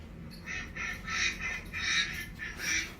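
Ducks quack in repeated bursts of a few calls each, moderately loud over a low steady background rumble.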